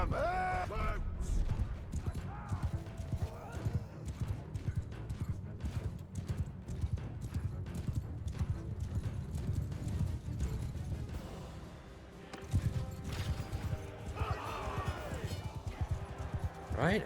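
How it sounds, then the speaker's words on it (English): Horses galloping in Mount & Blade 2: Bannerlord, hooves pounding in a busy rhythmic clatter that swells and fades over a long stretch, with battle noise and a voice shouting now and then. "Horses! Get 'em here!"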